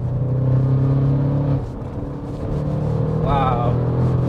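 An 830 hp Audi RS6 C8 pulling hard in fifth gear, a deep engine drone heard from inside the cabin that dips briefly then swells again, with a voice talking over it.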